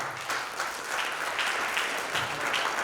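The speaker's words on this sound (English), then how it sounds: "Okay, if we got another, please round of applause." Audience applause at an in-person crypto talk event, a dense steady wash of many hands clapping, moderately loud and even throughout the short stretch, with no talking over it.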